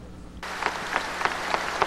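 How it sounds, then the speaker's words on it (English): A crowd gathered for Pope John Paul II breaks into clapping after a near-silent pause, a sudden onset followed by steady, moderately loud applause with distinct sharper claps. "they clapped"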